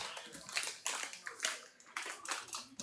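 Dry dessert rice being rinsed under running water, with irregular splashy bursts and sloshing close by, loud then briefly easing, repeated several times.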